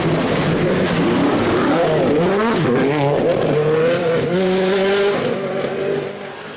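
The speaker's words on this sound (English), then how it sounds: "that's how the car actually behaves in game" Rally car racing in EA Sports WRC on a snowy stage, its engine revving loudly and continuously with rising and falling pitch as it accelerates and shifts, and tires scrabbling beneath, fading slightly near the end.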